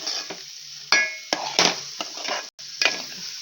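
An egg frying in a pan is stirred and scraped with a utensil, giving a steady sizzle broken by several sharp metallic scrapes and clinks against the pan, close and fairly loud, with no talking.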